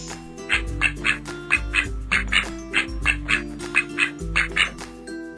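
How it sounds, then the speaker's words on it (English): Ducks quacking in a series of loud, rhythmic quacks about twice per second over a bouncy backing tune in a children's alphabet song, close and prominent. "Ducks."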